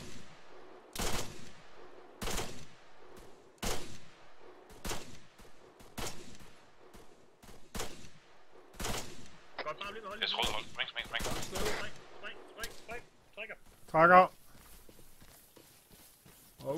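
Gunfire in Arma 3, with sharp single shots spaced every second or so, then a denser burst of rapid fire and clatter, heard at a distance and fairly faint, with voices talking over parts of it.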